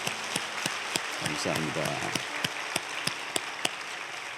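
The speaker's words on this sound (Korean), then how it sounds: "박수로 뜨겁게 환영하겠습니다." A church congregation claps to welcome first-time visitors, a soft steady patter of applause with sharp individual claps standing out, while someone speaks briefly over it.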